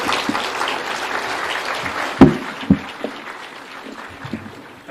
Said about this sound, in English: give the President a clap of honor as he steps onto the podium to address us